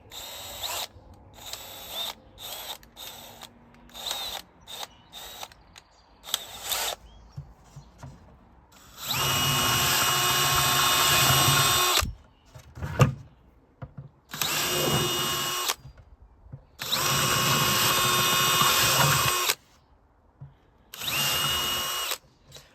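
Light clicks and handling noises, then four long, loud bursts of a power drill with a larger bit boring through a plastic bucket, separated by brief pauses.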